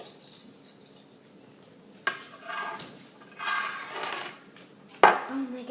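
A utensil stirs slime in a bowl, making sticky, wet scraping and squelching over a soft background, with two sharp knocks against the bowl. Children's voices are faintly present.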